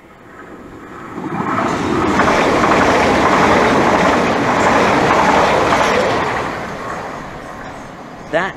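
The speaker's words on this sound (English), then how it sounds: "And now passing by is 1 Foxtrot 40, the 1555 Southeastern service from St Pancras International to Ramsgate" A Southeastern Class 395 passenger train passes at Teynham station, building to a loud, sustained rushing roar for several seconds before fading away, with no talk over it.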